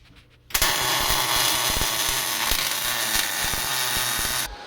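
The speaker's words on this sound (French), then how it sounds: "Alors, j'y vais pour faire ma soudure" A wire-feed welder lays a bead on metal tubes for a rocket stove frame: a loud, steady crackling buzz starts abruptly, holds for about four seconds with small pops, then cuts off.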